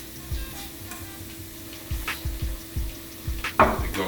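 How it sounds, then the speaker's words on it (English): A knife slices tomatoes on a cutting board in a home kitchen, a series of soft, evenly spaced thuds close by, with faint background hum and no speech. "Let's slice these guys down."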